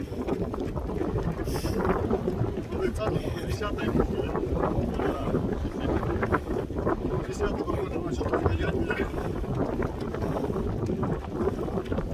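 A strong headwind roars and buffets the microphone of a cyclist throughout, a constant rough rumble with gusty flutter and no clear pauses.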